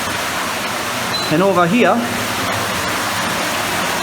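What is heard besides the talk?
water running down into a sump in an abandoned mine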